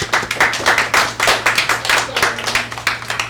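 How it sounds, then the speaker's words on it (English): A small audience claps for a woman who just graduated from the University of San Diego, a steady round of close, distinct handclaps rising and falling over a few seconds with no talk. "So give her a round of applause."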